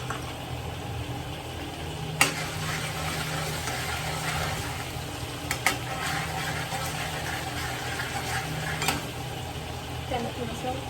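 Two tablespoons of garlic and one of ginger fry in hot oil, a steady low sizzle with sharp stirring clicks and taps of a utensil against the pan, while a person talks over it.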